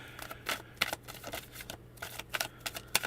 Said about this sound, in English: let's shuffle these cards up real good for you